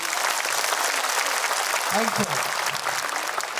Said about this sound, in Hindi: एक बार और यीशु के लिए जोरदार ताली बजा दें।